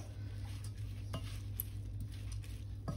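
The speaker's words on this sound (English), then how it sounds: "Keep frying until the zereshk bloats a bit before we add the sugar." Barberries crackle and sizzle softly in a hot pan, with occasional scrapes and clicks of a utensil stirring, under a steady low hum.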